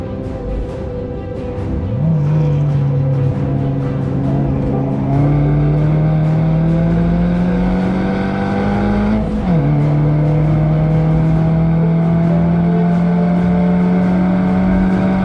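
Toyota Yaris engine on a racing lap at Laguna Seca, loud and close, revving high with a steady climbing drone, a sharp gear-change dip near the middle, then pulling hard again with no talk.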